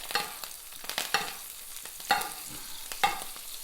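Steak sizzles in butter in a pan, a soft crackling hiss broken by several sharp scrapes and spoon taps as butter is spooned over, close and moderately loud with no talking.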